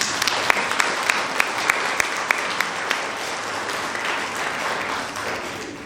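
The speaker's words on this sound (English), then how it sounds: "give them a round of applause, please" Sustained audience applause fills a 2019 CCS graduation ceremony in Columbus, a dense steady wash of many hands with a few sharper individual claps standing out at a regular pace, fading slightly toward the end.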